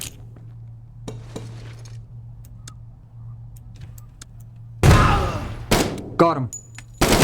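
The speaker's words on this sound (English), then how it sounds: "I'm just going to send a frag down to here." Frag grenade thrown in the Door Kickers 2 tactical shooter game: quiet clicks and ticks with a steady low hum, then a loud sudden blast near the end followed by a few sharp bursts.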